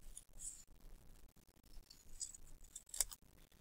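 Scissors snipping through folded paper along a curved line in a classroom craft, a run of short crisp cuts close by, with one sharper snip near the end.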